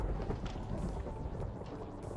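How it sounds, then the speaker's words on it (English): Lightning strike thunder in Minecraft, a brief broad rumbling crack that rolls and swells over a couple of seconds, fairly close and without talking. "I heard the lightning. I thought it was a creeper."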